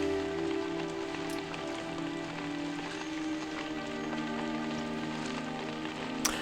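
Steady rain falling during a funeral scene in the 1979 film An American Christmas Carol, a continuous soft patter on surfaces over low background tones, with no talking.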